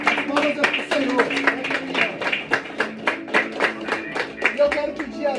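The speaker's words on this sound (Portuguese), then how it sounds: "As palmas é para o Senhor." Church congregation clapping in a steady rhythmic beat, sharp regular claps carrying on throughout while voices sing or speak underneath.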